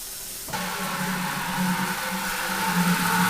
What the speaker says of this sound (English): the Star Sand sanitizing solution makes a lot of bubbles. And you can see that it's fizzing up and bubbling pretty good in there.